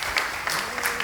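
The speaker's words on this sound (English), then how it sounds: "Give him an applause." Applause from an audience at a talk on the theme of vanity, a brief burst of steady clapping lasting about a second.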